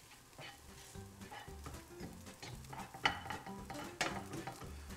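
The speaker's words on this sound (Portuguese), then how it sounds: "saltei a broa bem salteadinha. Até envolver todo o azeite." Crumbled homemade cornbread sautéed in olive oil, a soft sizzle under repeated scraping and stirring, with a few sharper clinks of the utensil against the pan.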